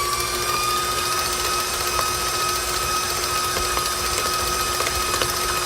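An electric mixer beats German chocolate cake batter in a steady, unbroken motor whir with a constant high whine, close and fairly loud, with no talking over it.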